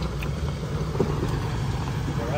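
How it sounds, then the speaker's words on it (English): Jeep fitted with twin transfer cases running at an off-road park, a steady low engine drone with a faint whine, under constant background noise. "He's got twin transfer cases in that thing. Sounds like a wind up car."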